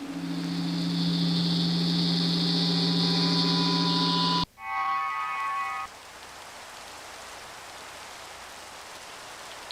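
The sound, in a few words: rain in the video game Minecraft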